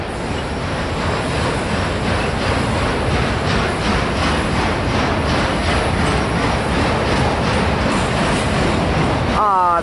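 A Norfolk Southern freight train hauling a long string of auto racks rolls past close by, its loud wheels clattering in a steady rhythmic clack, with a brief wheel squeal near the end.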